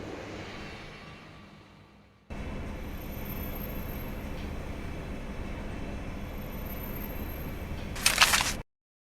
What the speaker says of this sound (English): Ah, the train. Just in time.